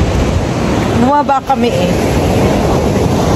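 Steady broadband surf of sea waves on the shore, loud and continuous with wind buffeting the microphone, while a voice speaks briefly over it.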